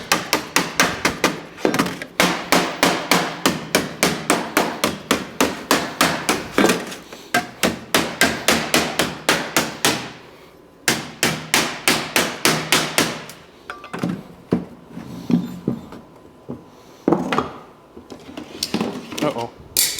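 A hammer strikes 24 gauge standing seam metal roofing on an anvil in rapid, even bursts of sharp metallic blows. The bursts are close and loud, with a few short pauses between runs.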